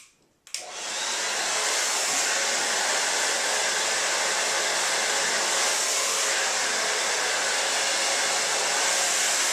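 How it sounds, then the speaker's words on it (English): A hair dryer blows steadily and loudly at close range while hair is blow-dried over a round brush, a constant broadband whoosh that starts abruptly after a brief quiet moment and runs unbroken to the end. "aim your hairdryer down on your hair"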